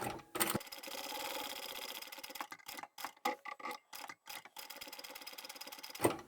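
A sewing machine backstitches through fabric on a small scrap coin pouch, running in a quiet steady whir, then stopping and starting in short stitch bursts before running again, faint and close.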